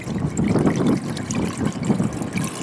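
Amsoil engine flush pours steadily into a Cadillac engine, a close gurgling trickle of liquid that swells and eases in short pulses.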